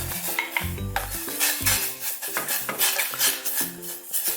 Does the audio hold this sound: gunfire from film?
no